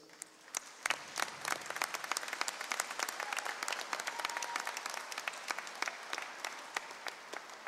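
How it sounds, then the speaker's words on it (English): A convocation audience at UCN in 2018 applauds deans, faculty and staff: sustained, even crowd applause of many hands, fairly distant and soft, continuing steadily throughout. "please join me in a round of applause for those who have supported our students in so many ways"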